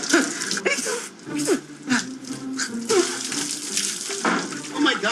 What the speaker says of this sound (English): But I did like that Rose finally got to hose Ed down like the animal he is.